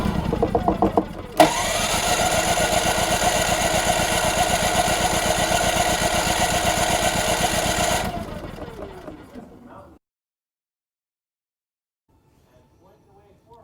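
A Firman WH3200iE dual fuel generator engine cranks and catches, then runs at a loud, steady buzzing drone for about seven seconds before it cuts out and winds down, leaving near silence.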